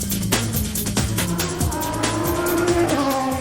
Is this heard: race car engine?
yes